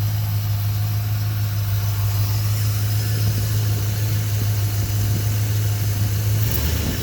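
A stock 1967 Buick Skylark engine with points ignition and original carburetor idles steadily and close by, a smooth low hum with a constant drone that holds evenly throughout.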